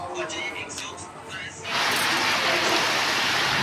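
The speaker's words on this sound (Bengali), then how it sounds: "দেখো কি সুন্দর বৃষ্টি হচ্ছে" After a brief stretch of voices, a dense, steady hiss of heavy rain takes over, loud and close, pouring without pause.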